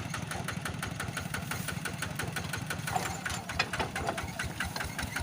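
A truck engine running as it shifts through the gears, with a rapid, even mechanical clatter close by that stays steady throughout.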